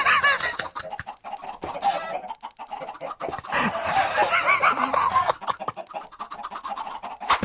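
Several chickens cluck close and loud in rapid overlapping bursts, with short pauses between the runs.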